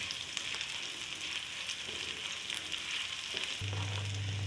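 Spicy masala with green chillies stirred in a pan, giving a steady close sizzle and frying hiss with light scraping, joined near the end by a low continuous hum.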